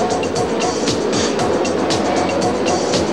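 A pack of 1993 IndyCar race cars roars at the green-flag start, engines loud and close in a dense, continuous snarl with rapidly overlapping pitch sweeps as cars pass in quick succession.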